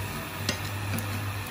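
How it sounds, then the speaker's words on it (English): Food roasting in a pan on a home kitchen stove, a steady soft sizzle with faint scraping stirring, close and continuous with no talk over it. "We have to roast it until it becomes yellow."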